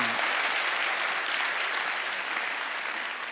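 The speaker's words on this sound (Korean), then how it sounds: "박수 한번 쳐주소." An audience at a church prayer meeting applauds, a dense, even wash of clapping from many hands that holds steady and tapers slightly at the end, with no talking over it.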